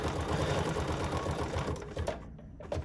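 A sewing machine with a stitch regulator runs a straight stitch around the outline of a fabric leaf, its fast, even needle patter loud and near before easing off toward the end.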